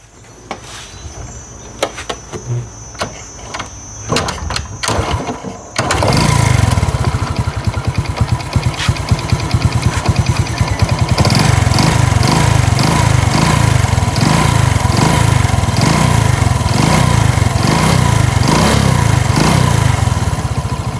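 A Honda Wave 125 motorcycle engine with an abnormal noise is heard, faint rattles at first, then the engine runs loud and close with a rapid, rhythmic knocking throughout.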